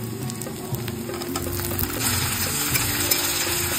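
Raisins, green chillies and chopped tomato sizzle in a pan for chicken korma, a continuous close frying hiss that swells a little louder halfway through, with no talking.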